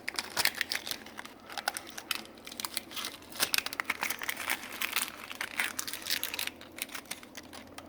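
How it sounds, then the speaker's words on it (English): Tape being pulled off parts during engine work on a 1959 Clark Clipper forklift restoration, a dense run of close crackling and crinkling with sharp tearing snaps, fairly quiet and without talk. "Pull the tape off here."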